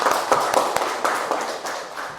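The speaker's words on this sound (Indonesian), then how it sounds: "Terima kasih, tepuk tangan." A small group claps briefly, a scattered handful of distinct claps spread over a couple of seconds, fairly close and without voices.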